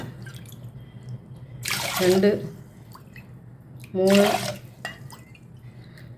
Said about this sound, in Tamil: இதால் இப்போ கரெக்டாக ஒரு ஆறு கப்பு தண்ணி ஊற்ற போகிறேன்